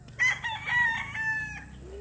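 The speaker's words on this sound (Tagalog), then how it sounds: "may mga manok-manok din dyan" A rooster crows in a rural provincial yard where chickens are kept, with one drawn-out cock-a-doodle-doo at moderate distance, clucking fowl and a low murmur of background noise underneath.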